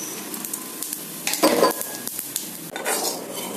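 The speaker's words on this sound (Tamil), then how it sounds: "ஒரு ஸ்பூன் ஜீரகத்தை வறுத்துடலாம்" Crackling sizzle of cumin seeds dry roasting in a hot pan, with a spoon scraping and stirring intermittently, close and moderately loud.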